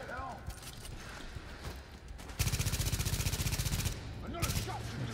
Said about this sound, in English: Another shot.